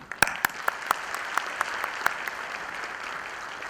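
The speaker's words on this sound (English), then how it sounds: "So a big round of applause for this gathering" Scattered applause from a small audience at an HR conference, a few distinct claps at first, then thinning into light, sparse clapping.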